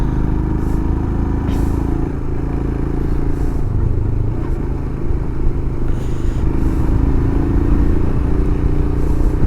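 A Royal Enfield Himalayan BS6 motorcycle rides a curving mountain road near Gangtok, its engine a continuous close rumble mixed with wind and road clatter, and no voices.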